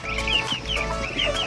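Rhode Island chickens clucking in a farm pen, a steady run of close, repeated clucks and soft calls with no voices.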